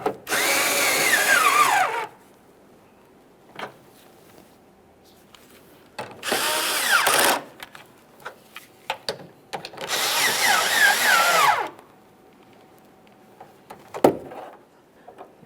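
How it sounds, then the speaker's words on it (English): A power tool drives a nut onto the stud of a 2013-2020 Ford Fusion rear lamp assembly, whirring loudly in three separate bursts of a second or two each, with small clicks and handling knocks between them. "I'm just going to go ahead and start in the stud into the lamp assembly here, and we'll snug it up"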